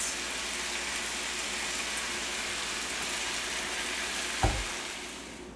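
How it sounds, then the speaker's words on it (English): Chili sauce pours through a strainer into hot tamale meat, making a steady, dense sizzle that runs the whole time, with a brief clunk near the end and no voices. "I'm going to use my strainer here, and I'm going to strain my sauce right into my meat"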